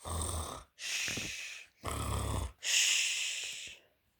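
A giant's snoring is acted out in a storytelling performance: four long, loud, rasping breaths alternate between wheezy inhales and rumbling snores, separated by short pauses, with no talking.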